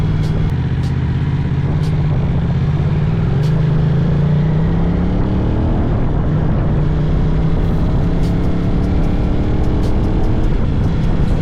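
A Moto Morini adventure motorcycle runs with a continuous close engine note that rises and falls in pitch, with several sharp short crackles and pops from the exhaust scattered across the ride and no talking.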